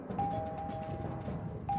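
A doorbell rings with two short chimes about one and a half seconds apart, standing out over a steady, busy background of noise.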